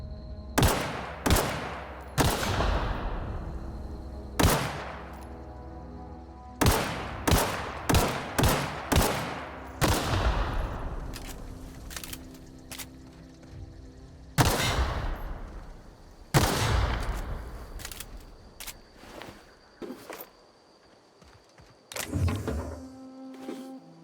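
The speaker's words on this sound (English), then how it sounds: "Shock cannon." A shock cannon fires in the video game Outer Worlds: heavy, booming shots, singly and in quick bursts, each with a ringing decaying tail, about fifteen blasts spread unevenly with short quiet gaps and no talking.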